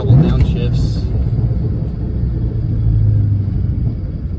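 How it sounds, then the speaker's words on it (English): A Cobra sports car engine rumbles at a deep, steady idle up close, with a brief voice near the start. "everything about this car with the sound, you can hear the motor"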